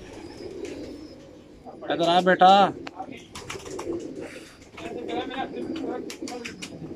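Kamagar pigeons coo in a loud, close burst near the start, with softer cooing and bird calls continuing after while someone speaks over them.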